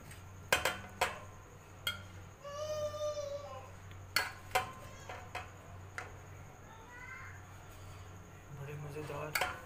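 A serving spoon clinks and taps against dishes while rice is dished out, scattered sharp clatters at a moderate distance, with a baby crying and faint voices in the background.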